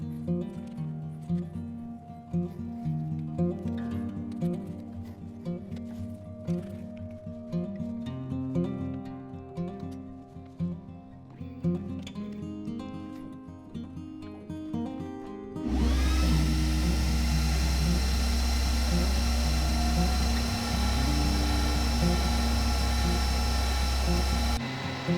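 An xTool S1 laser engraver working on glass starts up partway through with a loud, steady machine whir and fan hum that continues to the end, following a stretch of background music.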